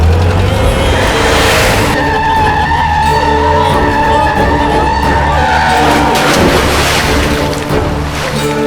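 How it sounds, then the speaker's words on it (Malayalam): A car's engine revs loudly and tires skid as it lurches off, a dramatic movie scene with the roar rising and falling and a second surge of engine noise near the end. "അപ്പോഴാണ് കൃഷ്ണ കാർ സ്റ്റാർട്ട് ചെയ്തത്"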